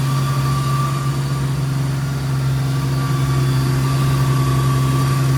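A 4.0L Jeep Wrangler TJ Sport idles steadily with a constant low engine hum and droning tones, close and loud, while a worn clutch adds a faint rattly whir; no voices.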